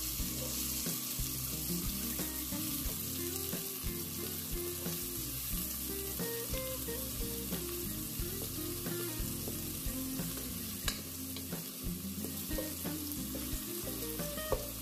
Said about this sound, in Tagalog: pag mainit na yung mantika, ihulog natin yung sibuyas.